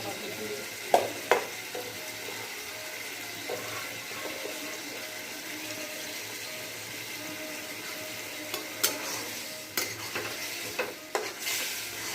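Ghugni of peas and fried coconut is sautéed in a pan, giving a soft, steady sizzle with occasional sharp clinks and scrapes of stirring, moderately faint and close, with no talk over it.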